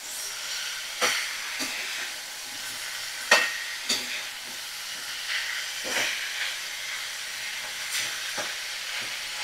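Winter vegetables being fried with spices give off a steady close-up sizzle and hiss, punctuated by sharper bursts every second or two as the pan's contents are stirred and tossed.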